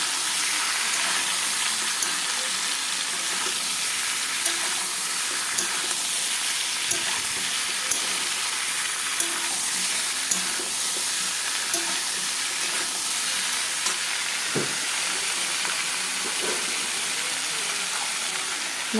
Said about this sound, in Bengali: এর মধ্যে আমি সেদ্ধ করে রাখা আলু দিয়ে দিলাম।